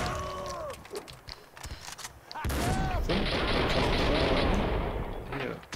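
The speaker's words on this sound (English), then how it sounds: "Just throwing around grenades like a madman." Gunfire and grenade blasts from the Max Payne 2 video game erupt in loud, dense bursts, building into a sustained barrage in the second half while someone talks over the action.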